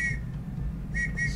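A character's whistle in the railway-era adventure game The Last Express gives short, shrill tones, one at the start and two more near the end, over a low rumbling background.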